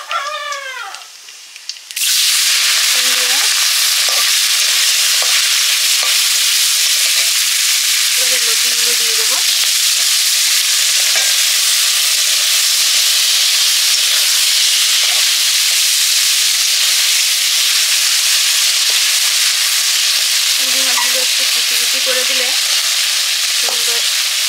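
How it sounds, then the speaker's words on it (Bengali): Taro stolons with shrimp and potatoes hit hot oil in a home kitchen, bursting into a loud, continuous sizzle that holds steady throughout, while a rooster crows faintly in the distance now and then. "এবারে করবো লতি ভাজা, চিংড়ি মাছ দিয়ে আলু দিয়ে দিলাম"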